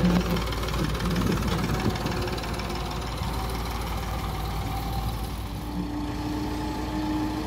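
A David Brown 880 tractor engine idles with a steady, close diesel knock and rumble running continuously, with no talking over it.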